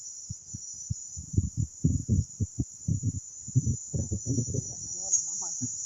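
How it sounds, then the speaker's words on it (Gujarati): Crickets chirp in a constant high shrill drone through a hot midday outdoor scene in rural Gujarat, running beneath someone talking throughout. "તમરા બોલે મિત્રો"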